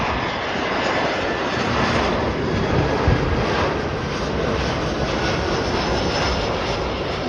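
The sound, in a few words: American Airlines Airbus A319 arriving at Chicago O'Hare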